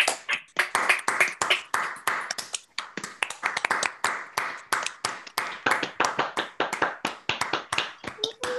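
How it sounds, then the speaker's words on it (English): The cast of an online Henry VI Part I performance applauds themselves, a stream of distinct separate claps from a few people, close and uneven in rhythm, rather than a dense crowd. "give yourselves a big round of applause"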